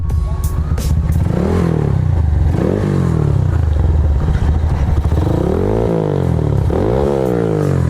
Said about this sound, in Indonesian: Kita mau rolling ya. Bawa motornya